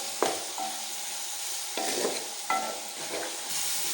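Two medium, roughly chopped onions go into a pan for spicy potato slices, giving a steady frying sizzle broken by stirring scrapes and a few light utensil clatters.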